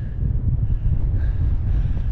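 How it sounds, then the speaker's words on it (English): Strong wind buffeting the microphone at a clifftop overlook in Natural Bridges National Monument, Utah, a heavy low rumble that stays loud and constant throughout. "It's super windy on the top"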